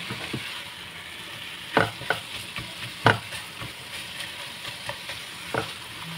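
Ground pork omelette fries in a pan with a constant close sizzle while a utensil stirs and scrapes, giving sharp knocks and clacks at irregular moments against the hiss.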